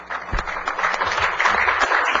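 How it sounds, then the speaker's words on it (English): An audience at a policy forum on the Iranian threat gives a short round of applause, dense, steady clapping sustained throughout. "I want to just ask we give a round of applause"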